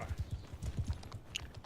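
Hooves clip-clop steadily as a horse moves in a video game, a quick run of close, thudding hoof beats under quiet ambient noise.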